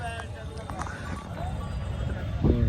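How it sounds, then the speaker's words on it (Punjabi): Horse hooves clip-clopping at a Hola Mohalla gathering, a few light irregular steps under a busy crowd murmur with a voice speaking, growing a little louder near the end. "ਇੱਕ ਘੋੜਾ"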